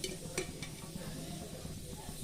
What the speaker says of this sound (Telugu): ఒక 2 స్పూను ఆయిల్ వేసుకుంటున్నానండి